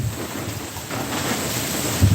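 Outdoor wind on a windy day roars and buffets the microphone as a continuous low rumble with gusty swells, without any speech.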